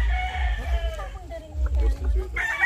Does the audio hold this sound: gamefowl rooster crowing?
yes